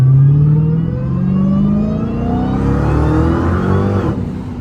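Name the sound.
Dodge Hellcat car revving, tires spinning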